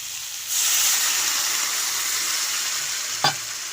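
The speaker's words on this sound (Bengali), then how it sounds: "আমি 2 কাপের মতো জল দিয়ে দিয়েছি।" Water poured into a pan of sizzling fried spice masala for a Bengali katla fish curry with bottle gourd greens sets off a loud, steady hiss and sizzle that holds for several seconds, with a brief clatter near the end.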